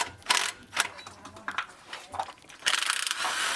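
Bolts being backed out of a Dodge Ram truck water pump, with ratchet clicks and metallic mechanism noise in several short bursts, then a louder sustained stretch of ratcheting near the end; no talking.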